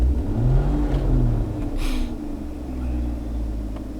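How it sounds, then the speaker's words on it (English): The engine of a C5 Corvette revs as the throttle is given gas, a close, droning rise and fall of engine pitch with a short burst of hiss partway through. "Every time I give it gas"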